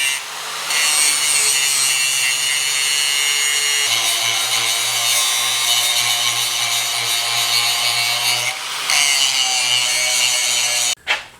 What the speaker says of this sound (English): I'm gonna have to grind it down with a regular grinding wheel